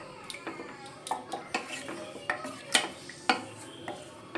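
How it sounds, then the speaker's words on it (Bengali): A spoon stirs potatoes and guchi fish with water in a pot for a curry, giving a steady series of scraping clinks and knocks against the metal, close and moderately quiet. "এবার আমি জল দিয়ে খুব ভালো করে নেড়ে চেড়ে নেব"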